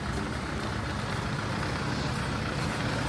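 A bus engine idles and rumbles nearby, a low continuous drone with a steady hum that stays constant, with no speech over it.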